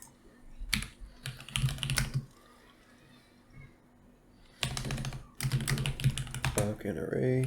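Fast typing on a computer keyboard comes in two bursts of rapid clicking separated by a quiet pause, close and crisp, with a faint voice near the end.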